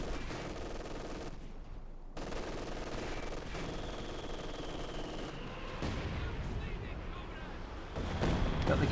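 Company of Heroes 2 battle audio delivers a dense, continuous barrage of gunfire, artillery and explosions, loud throughout with no pauses.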